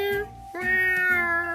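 A domestic cat gives two drawn-out, tonal meows in quick succession, close and clear with nothing else heard.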